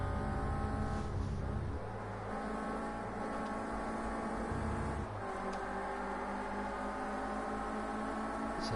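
Onboard engine of a Renault Clio Cup race car droning steadily at high revs, with shifts and brief changes in pitch around the gear changes, loud and continuous with no talk.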